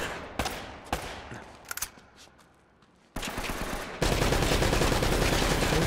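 Gunfire in the video game Uncharted: Drake's Fortune: a few sharp shots ring out with echoing decay, then bursts of heavy sustained automatic fire swell into a loud continuous roar.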